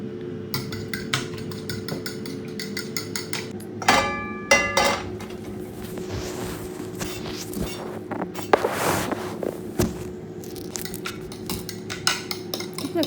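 A frying pan and other kitchen pans are picked up and set down nearby, giving scattered metallic clanks, clinks and knocks over a low steady hum, with a couple of louder clatters midway.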